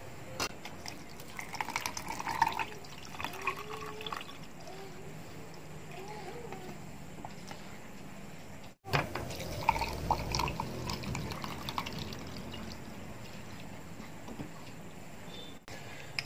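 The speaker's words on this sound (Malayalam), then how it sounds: "അതിലോട്ട് നമ്മൾ ഈ ലെമണിന്റെ സിറപ്പ് ആഡ് ചെയ്യാം." Lemon syrup poured into a glass over grape ice cubes while making lime juice, heard as quiet, soft trickling and dripping throughout, with a faint clink partway through.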